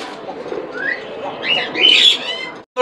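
Pigeons coo close by in soft, low, throaty calls that rise into a brief fluttering trill near the end, with a sharp knock at the close.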